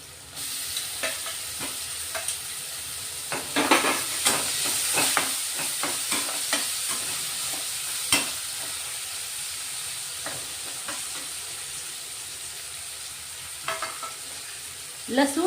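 Onions sautéing until reddish-brown in a pan before tomatoes go in, for a quick Maharashtrian breakfast dish, with a soft continuous sizzle broken by repeated spatula scrapes and taps, close and unhurried.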